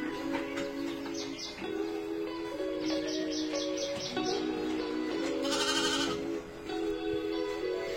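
Sheep bleat in a few short, wavering calls over a constant mechanical hum during wool shearing, with faint bird chirps in the background and no talking.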